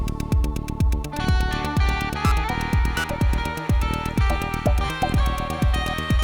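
Music run through the Airwindows Cojones plugin, a steady groove of punchy low drum hits with bright, bristly harmonic texture on top, playing continuously and loudly with no voices.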